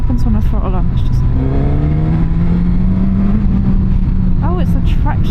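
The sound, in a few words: Suzuki GSX-S1000GX motorcycle engine under throttle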